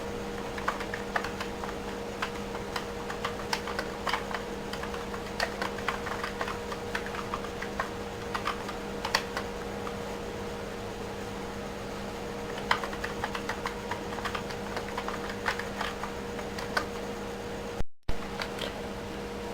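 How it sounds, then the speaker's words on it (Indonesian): Someone types on a computer keyboard in Microsoft Word, producing scattered light keystroke clicks at an irregular pace over a faint steady fan hum, with a short silent gap near the end. "Mari kita ketikkan beberapa kata seperti berikut ini."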